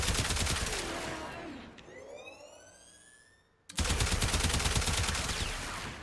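Fulmin gun in Warframe fires rapid crackling bursts, loud and dense at first, fading through a rising electric whine and a near-silent gap, then slamming back into a fresh burst of steady rapid fire.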